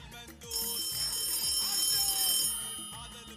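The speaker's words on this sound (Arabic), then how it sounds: "هذا التليفون يرن" Telephone ringing in a shop setting on a Ramadan call-in broadcast, electronic trills repeating over light background music, moderately loud with no speech over it.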